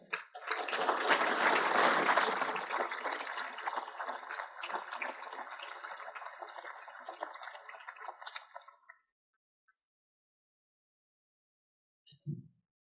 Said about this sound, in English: Please join me in giving a round of applause for our Perfect Award winners.